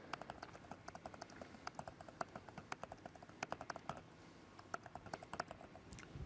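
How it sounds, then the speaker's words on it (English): Keys pressed on a computer keyboard during an office typing test, a steady run of quick, light clicks in uneven bursts, close and clear with no voices. "now I'll do a typing test."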